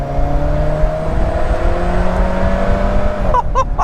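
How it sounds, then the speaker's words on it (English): An Alfa Romeo 4C pulls under steady acceleration with a rising engine drone, then a few quick turbo wastegate whooshes near the end, with no voices. "One of my favorite parts about this car is the turbo wastegate. It makes whooshes kind of akin to a Pagani Huayra."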